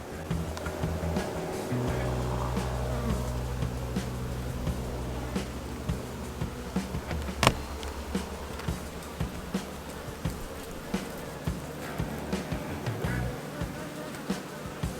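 Honey bees and drones in an open hive hum in a steady, close buzzing drone, with frequent clicks and handling knocks from frames being lifted and a low rumble early on.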